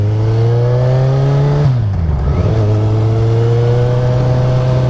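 A 2013 Kawasaki Z1000 engine hums steadily while riding, loud and close, with a brief dip in revs near the middle before it settles back to an even drone.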